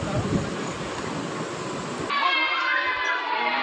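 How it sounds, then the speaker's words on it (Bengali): Rolling rumble of a train pulling into Jogram railway station on a new Purulia–Howrah route via Bankura. The noise shifts abruptly to a steadier tonal hum with faint clunks as it comes to a stop, and voices sound faintly. "এই মুহূর্তে ট্রেন এসে দাঁড়িয়েছে"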